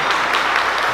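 A church congregation applauding during a Sunday service: a dense, loud, continuous wash of many hands clapping for the whole second.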